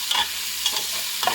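Chicken pieces stir-fried in a pan for chow mein, with a few short scraping stir strokes over a faint steady sizzle, close and moderately quiet.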